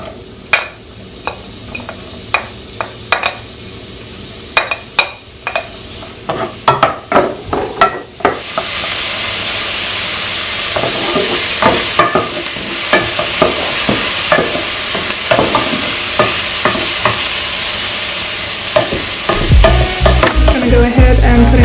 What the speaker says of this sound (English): So now I'm just going to go ahead and add the onions.